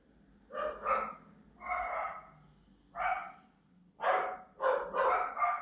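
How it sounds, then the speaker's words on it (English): Dogs barking nearby in a run of loud, separate woofs, single barks at first and then quicker bursts close together, with no voices over them. "Oh, dogs must be seeing something. They're going crazy."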